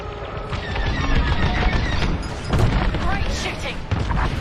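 Starfighter weapons firing in Star Wars: Squadrons, a loud, sustained barrage of blasts and booms layered over engine roar and radio chatter.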